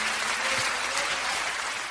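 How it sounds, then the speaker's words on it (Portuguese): A church congregation applauds in praise during a service, a steady, even wash of clapping that holds for the full two seconds without pause, fairly distant and diffuse with no speech over it. "os que podem dar a Jesus uma linda salva de palmas"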